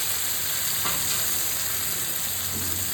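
Bay leaves and five-spice seeds frying in hot oil left over from frying fish, giving a dense, continuous close sizzle that holds steady for a few seconds with faint stirring underneath.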